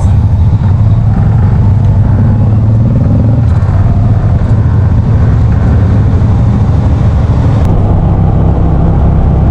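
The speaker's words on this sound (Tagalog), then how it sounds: "Traffic pagbaba ng Bitukang Manok." Steady road traffic on the Bitukang Manok descent near Candelaria, Quezon, a continuous loud low rumble of car and motorcycle engines passing close, with no talking.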